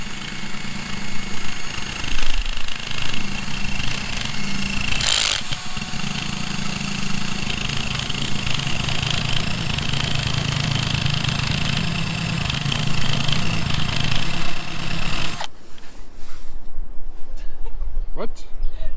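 A rubber eraser wheel on a power tool grinds boat decals off painted hull, a loud steady motorized whir running for about fifteen seconds before cutting off abruptly into near quiet.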